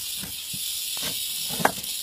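Large rattlesnake outdoors in Converse, Texas, giving a continuous dry buzzing rattle, close and fairly steady, with a brief louder click near the end.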